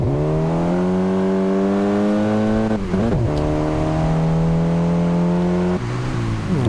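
A race car on a wet Red Bull Ring circuit in a virtual racing game pulls out onto the track, its engine droning loud and steady with a few brief dips as it shifts gear. No voices.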